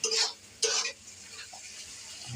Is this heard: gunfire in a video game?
no